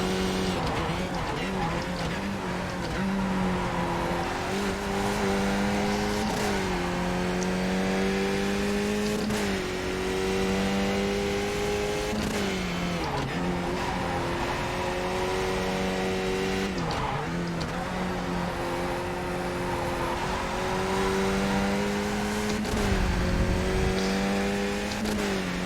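A Skip Barber race car in the iRacing sim drives a lap with a continuous engine drone that rises and falls through gear changes, with tire squeal and skidding through corners and faint speech underneath.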